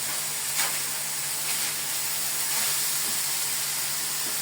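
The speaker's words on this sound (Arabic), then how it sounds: "صوت كده بعد ما السجق احمر، شايفين دلوقتي عليه حمرته ونزل السمنه اللي فيه" Sausage fries in ghee in a pan, a steady close sizzle and hiss filling the whole stretch at even loudness, with faint crackles and no talk over it.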